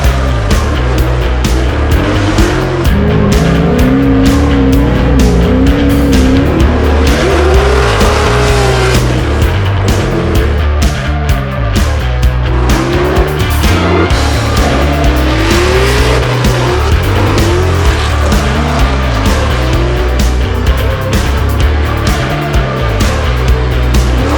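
Drift car on Toyo tires at a military base, its engine roaring loudly while the tires squeal and skid in long wavering bursts, continuous and close for the whole stretch.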